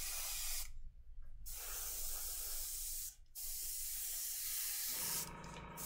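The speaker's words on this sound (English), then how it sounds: "I'm actually going to hold the base up at a bit of an angle and spray across it" An airbrush sprays paint across a tilted miniature base in a steady, close hiss, cut by brief pauses near the start and middle, then dropping to a softer hiss in the last second.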